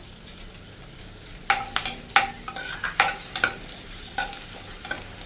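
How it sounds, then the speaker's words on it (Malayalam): Dried Kashmiri red chilies, cut into pieces, frying in oil for tomato chutney: a low sizzle under a run of clinking spoon strokes against the pan, uneven in rhythm and close, with no voices. "ഒരു നാലോ അഞ്ചോ വറ്റൻമുളകോ എടുക്കാം അത് രണ്ട് മൂന്ന് പീസായിട്ട് നമുക്കൊന്ന് കട്ട് ചെയ്ത് നല്ലപോലെ ഒന്ന് ഫ്രൈ ആക്കി എടുക്കാം"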